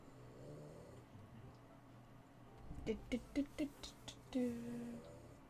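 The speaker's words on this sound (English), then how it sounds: "is the stream only gonna pick up your snoring?" Loud snoring from a sleeper, several rhythmic rasping snorts in close succession followed by a longer drawn-out snore, over a steady low background hum.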